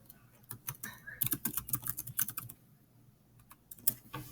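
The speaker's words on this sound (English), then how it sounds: "just by typing and hitting enter, it will appear as a message to the group" Fast typing on a computer keyboard, a quick burst of close, crisp key clicks over about two seconds, then a pause and a few final taps.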